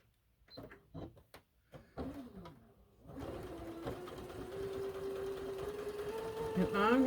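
A few knocks and clicks, then a sewing machine starts up and runs steadily in a continuous mechanical whir, speeding slightly near the end.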